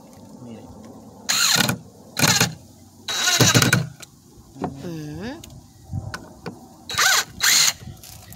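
A Craftsman 20V impact driver driving a small screw, heard as several short, loud whirring bursts with pauses between them, a softer rising whine in the middle, and quiet background.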